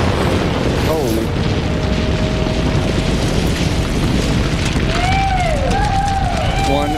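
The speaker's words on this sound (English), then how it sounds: "One very large explosion just went off." A very large rock-blasting explosion at a quarry-like rock face: a deep, heavy boom and long rumbling roll that fills the air throughout, with faint voices and whistling tones over the blast noise.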